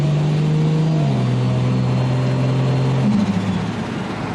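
Toyota MK4 Supra fitted with an ARTEC manifold, driving while the automatic gearbox shifts: a loud, steady engine drone drops in pitch at each of two smooth upshifts, close to the car, with no talking.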